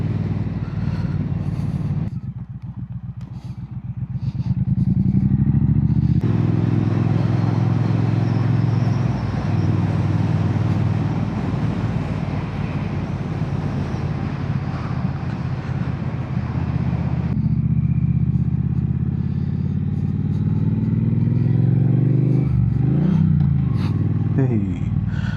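Triumph Bonneville motorcycle with Hitchcock slip-on exhausts, a loud low engine rumble that rises and falls through gear changes, partly masked by heavy wind noise and under a rider's talking.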